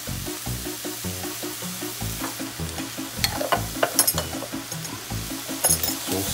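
Chili powder and minced garlic frying in a pan on a stovetop and being stirred, a steady sizzle with scraping stir strokes over background music, no talking.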